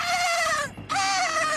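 A voice imitates a horse neighing, two long, wavering, bleat-like whinnies split by a short pause, loud and close, with no other sound.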